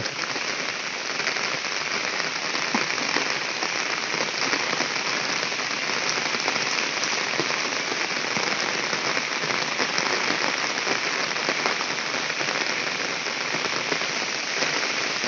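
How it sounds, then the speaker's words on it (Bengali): Heavy rain pours down steadily on a rural farm, a dense, continuous hiss of drops on surfaces with no letup and no voices for the whole stretch. "দেখেন এখানকার কিন্তু বেশি বৃষ্টি"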